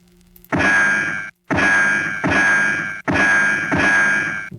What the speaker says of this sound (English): So we're going to be playing the gunshot sound.